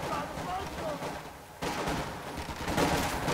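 A Vickers machine gun and other weapons fire in a Company of Heroes 2 battle, a dense, crackling barrage that jumps louder midway, with a voice talking over the gunfire.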